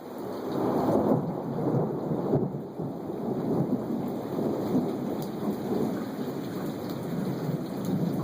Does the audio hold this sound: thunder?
yes